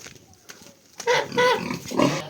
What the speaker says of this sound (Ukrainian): дала обом свиням, щоб не кричали